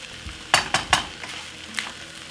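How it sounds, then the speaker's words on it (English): Chinese-style fried rice with plenty of prawns is tossed in a hot pan, with a steady sizzle broken by three quick scraping stirs close together and one more a moment later. "Chinese stir fry rice with a lot of prawn."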